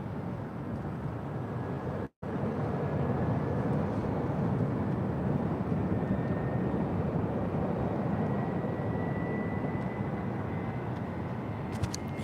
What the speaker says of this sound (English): Here in another Delta 767 pushing back. You can hear her a mile away. Those engines.